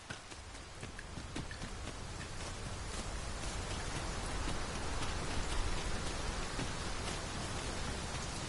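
Steady rain in the video game Dragon's Dogma 2 pours down in a dense, hissing wash with scattered drops pattering on a surface, growing slightly heavier and continuing without pause.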